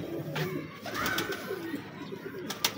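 A pigeon coos among a breeding flock in a loft, with soft low rolling calls repeating over a faint background hum and no talking.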